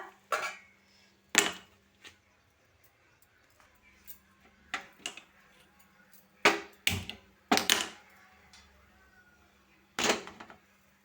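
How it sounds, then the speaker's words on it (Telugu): Dishes and pots clatter and clank in loud separate bursts with quiet gaps between, metal and ceramic knocking together close up, no speech. "ఇంక నీ ఉడుకుతూ ఉంటే నేనైతే అంట్లు తోమేసుకుంటా"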